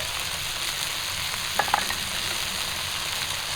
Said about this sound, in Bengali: মশলাটা দিয়ে আবারও একটু ভেজে নেব হালকা করে ভেজে নেব